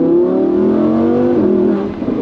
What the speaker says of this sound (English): so you can still hear the V10.